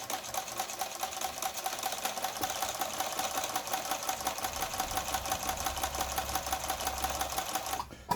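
A household Yamata sewing machine runs with the pedal pressed while its mechanism is stuck, giving a loud, steady mechanical whir and buzz that continues unbroken for about eight seconds before cutting off abruptly.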